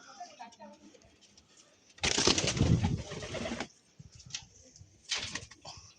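Andhra pigeons cooing in a loft, soft repeated coos and bird calls under steady background noise, with a louder burst of rustling or flapping in the middle.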